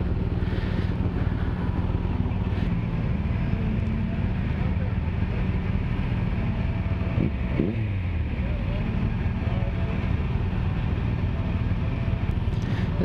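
Group of BMW motorcycles riding together on a club breakfast ride, a steady low engine drone with heavy wind buffeting the microphone throughout.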